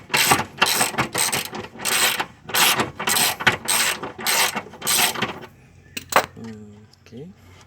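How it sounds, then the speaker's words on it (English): A ratchet wrench removes studs from the rear lower control arm of an EF9 Honda Civic, giving a close run of quick rhythmic clicking bursts that stops after about five seconds, followed by a few faint metallic knocks. "I'm taking out my stud for my LCAs."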